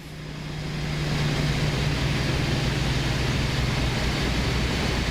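A DB BR 218 diesel locomotive in Train Sim World runs with a steady, droning engine rumble and a low humming tone, building up in the first second, then holding constant and loud with no talking.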